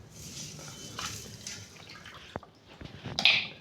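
Raw chicken pieces are rubbed and rinsed with rock salt in a bowl of water in a home kitchen, giving soft, close sloshing and dripping with a few sharper splashes near the end.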